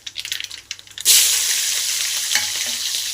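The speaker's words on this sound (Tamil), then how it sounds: "இப்போ எண்ணெய் காஞ்சிச்சு கறி போட்டுடலாம் இப்போ நல்லா பொரியட்டும்" Vegetables for a Tamil pumpkin-leaf stir-fry hit hot oil with a sudden loud sizzle that settles into a steady close frying hiss. Before it come soft kitchen clatters.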